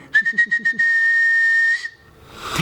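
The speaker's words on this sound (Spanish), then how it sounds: "el muchacho llamaba a sus cabras con un potente silbido" A loud, sharp whistle calling goats at dusk: several quick short blasts in a row, then one long sustained shrill note, followed by faint outdoor noise.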